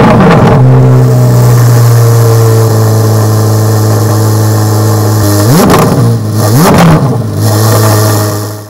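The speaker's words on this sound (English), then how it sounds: "This car has an absolutely insane startup exhaust noise." A 2023 Corvette Z06 with a 670 hp engine starts up with a loud exhaust roar, settles into a steady idle, then gives two sharp revs before dropping back to idle, very close and loud.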